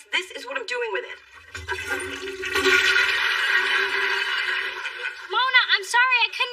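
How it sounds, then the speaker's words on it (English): A toilet flushes in a bathroom stall, a steady rushing swirl of water that runs for several seconds beneath voices talking over it. "I couldn't hear you over the toilet flushing."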